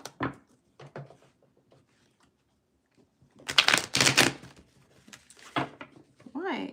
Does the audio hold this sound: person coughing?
no